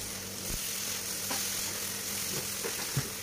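Chicken marinated for 24 hours sizzling steadily in a pan with browned onion and garlic, a constant hiss with a few soft pops and stirring knocks.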